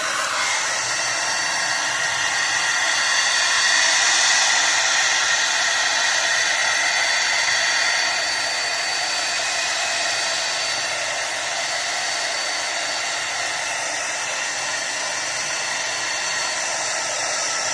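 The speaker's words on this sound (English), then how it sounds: "Now I have heat on, but you can use the non-heat setting" Blow dryer running on its heat setting, a loud, steady, close rushing hum that holds constant throughout with no voices.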